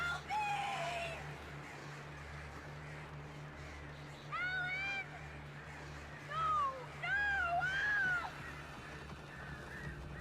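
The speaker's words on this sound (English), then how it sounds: "The birds attacked him." Shrill, warbling bird cries in the Alan Wake video game, arriving in several separate bursts over a steady low hum, loud and close as the birds attack.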